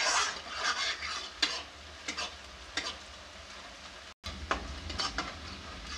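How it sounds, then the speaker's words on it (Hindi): Onions fry in a pan under repeated stirring, with quiet crackling sizzle and several sharp scraping strokes of a spatula against the metal, close by and without speech. "इसे अच्छी तरह से भूनेंगे चलाते हुए। प्याज अच्छी तरह से लाल हो जाए"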